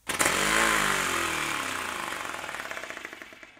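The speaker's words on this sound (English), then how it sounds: "3D printed compressed air engine." A 3D printed compressed air engine fed at about 10 psi starts with a sharp burst, then runs loud and close with a rapid rattling pulse that slowly slows and fades as the air pressure drops.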